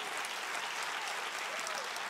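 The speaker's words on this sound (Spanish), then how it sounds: "Si ese es el aplauso, dáselo mejor al Señor." Congregation applauding in a church during a sermon, a continuous wash of many hands clapping at an even level, fairly distant and diffuse.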